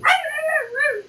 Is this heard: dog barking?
yes